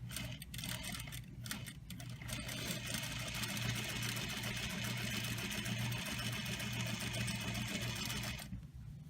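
A sewing machine runs steadily while back stitching a welt pocket at normal stitch length, a continuous close mechanical whir with a few brief pauses at the start, ending abruptly.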